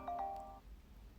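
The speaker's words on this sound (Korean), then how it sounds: "전화 왔어요" A phone ringtone for an incoming call chimes near the start, a couple of tonal melodic notes lasting about half a second, then fades into quiet room tone with no talking.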